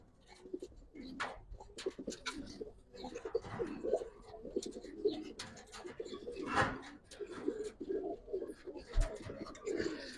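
Tournament pigeons coo repeatedly up close, soft throaty rolling calls overlapping in an irregular rhythm, with a few faint voices and small knocks in the background.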